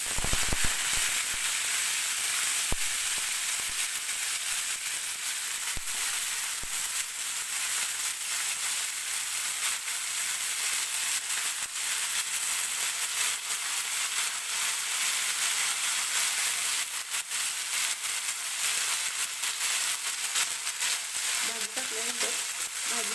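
Fenugreek greens tossed into a pan of frying green garlic give a steady, loud sizzle that holds unbroken throughout, with faint stirring scrapes toward the end and no talking.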